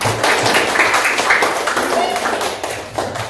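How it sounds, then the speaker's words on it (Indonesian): Clapping in a physical education class after a student performs a forward roll in floor gymnastics, brisk hand claps and taps over the voices of people talking in the room. "terima kasih tepuk tangan buat Azam."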